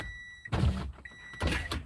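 A car gives two short electronic beeps, one each time it is locked or unlocked, each tone followed by a muffled clunk, fairly faint and with no talk.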